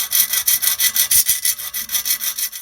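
A thin 0.4 mm aluminium shim is cut by hand for a Polini 70cc kit on an MBK 51 moped, giving a rapid, even back-and-forth rasping stroke about five times a second, close and alone.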